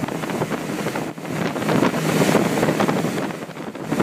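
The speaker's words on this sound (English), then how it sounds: "the sound of those unsilent V8s is glorious" A Riva Tritone wooden motor boat with V8 engines running at speed on a lake, a loud broad rush of engine roar, hull noise and water spray buffeted by heavy wind on the microphone.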